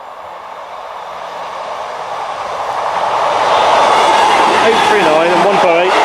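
A Class 158 diesel train pulls into the station for Telford Central. It starts as a low rumble, then grows louder and nearer, with rising wheel and engine hum and a few squeals near the end. A voice talks under the noise.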